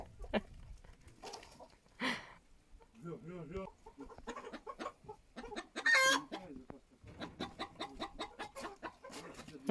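A rooster clucks and squawks in agitated bursts on a farm, fairly close, while people talk nearby.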